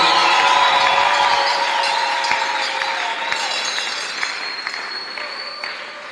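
A church congregation bursts into applause and cheering, a steady wash of clapping and shouts that tapers slightly over six seconds, with occasional clinks in the mix.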